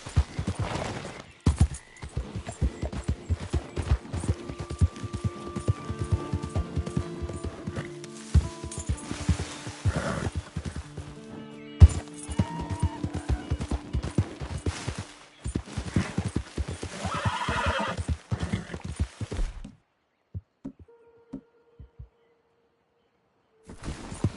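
A horse in the Western video game Red Dead Redemption gallops with fast, irregular clip-clopping hoofbeats. Whinnies and neighs rise above the hooves, and the sound cuts out near the end.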